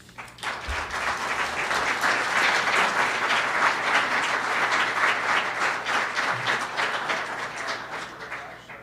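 Sustained applause from a seated audience welcoming two guests to an evening interview event, steady and full throughout with dense overlapping claps and no speech.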